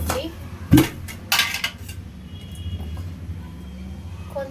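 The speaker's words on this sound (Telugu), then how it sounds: "ప్యాన్ పెట్టి ప్యాన్ పెట్టి" A pan is set down on a home stove with a sharp metallic clank, followed by a couple of lighter clattering knocks of cookware, then quieter kitchen ambience.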